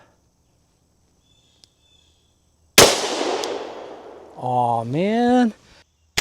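A Magnum Research BFR revolver fires a single .500 JRH round outdoors, one sharp loud blast with a decaying rumble, after which a voice exclaims close to the mic.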